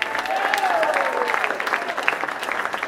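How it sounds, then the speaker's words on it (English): An audience at an Orlando show applauds a Paula Deen impersonator, steady dense clapping filling the room for a few seconds with no voice over it. "Let's have a round of applause for Paula Deen."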